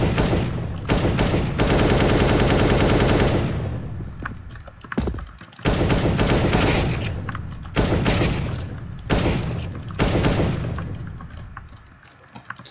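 Rapid automatic gunfire from a weapon spray in a video game, in long bursts, loud and close, separated by brief pauses, with several sprays over the clip.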